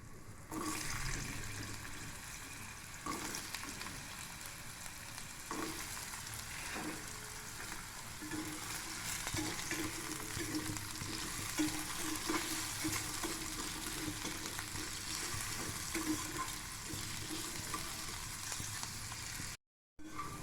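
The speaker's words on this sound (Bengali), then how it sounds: "এখানে আমার আলু ভাজা হয়ে গেছে।" Diced potatoes fry in hot oil with a continuous dense sizzle that stays even and close throughout, with a short dropout near the end.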